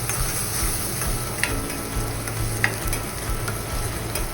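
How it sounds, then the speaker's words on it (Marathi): Chopped onion, garlic and asafoetida sautéing together in a pan for a homemade dal tadka, a steady close sizzle broken by the scrape and clack of stirring. "आता आपण टाकूया बारीक चिरलेला कांदा आणि या सगळ्यांना एकत्र चांगलं परतून घेऊया."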